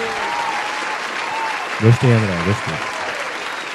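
Sustained applause, a broad even wash of clapping that carries on throughout, with a brief spoken voice rising over it in the middle.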